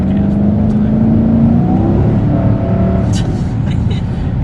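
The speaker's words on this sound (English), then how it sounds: "It's not loud, but you hear the V8." A 2011 Dodge Charger R/T with a V8 engine produces a steady low rumble that is moderately loud and continuous, heard from inside or near the car during a drive.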